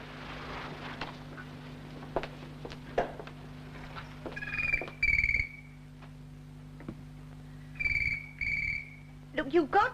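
An old-fashioned telephone rings in a TV drama in two distinct double-burst rings, fairly close and clear, over a low steady hum with faint background clatter.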